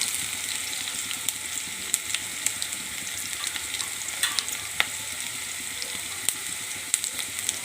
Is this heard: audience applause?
no